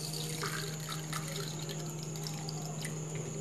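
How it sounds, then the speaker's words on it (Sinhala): Water pours steadily into a container holding green gram seeds set to soak for sprouting, a soft, continuous trickle and splash with faint dripping, close by and quiet. "එක වැහෙන්න වතුර දානවා."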